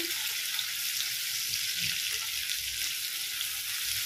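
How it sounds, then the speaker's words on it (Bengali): Ginger paste fries in a pan for a vegetarian pointed gourd and moong dal dish. A steady, close hiss of sizzling runs throughout, with faint low clatter beneath and no talking. "অল্প ভেজে নিচ্ছি, দিয়ে দিচ্ছি অল্প আদা বাটা"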